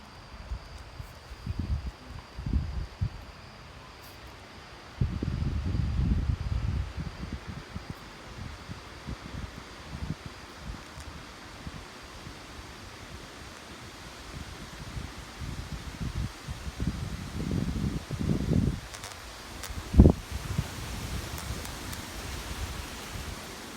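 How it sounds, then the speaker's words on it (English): Gusty fall wind rustles leaves outdoors in repeated bursts, rising and falling with quieter lulls between, with some wind buffeting on the microphone and no talk. "It's always so windy over here."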